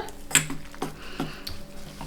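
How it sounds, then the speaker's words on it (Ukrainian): A spoon scrapes and clinks against a bowl in a quick, irregular rhythm while mixing cheese into a batter, close up, with no voices. "Перемішую ложкою"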